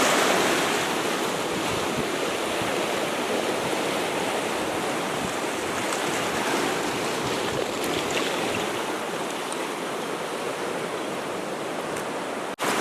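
A muddy creek swollen with snowmelt rages in a constant loud, broad rushing roar that stays steady throughout, close by and without talking.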